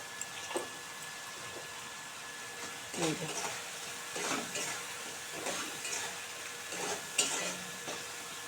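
Spices for a tangra fish curry sauté in oil with turmeric and salt, a low sizzle under repeated scraping strokes of a spoon against the pan, close and rhythmic, with no talk.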